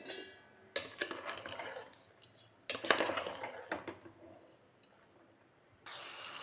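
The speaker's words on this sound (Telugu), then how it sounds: "వీటన్నింటినీ కిందికి పైకి ఇలా కలుపుతూ ఒక 2 నిమిషాల పాటు మీడియం ఫ్లేమ్లో మనము బాగా" Soaked kabuli chana fry with onions and ginger-garlic in a pan over medium flame, heard as quiet clinking and scraping stirring strokes in a few separate bursts with faint sizzle between.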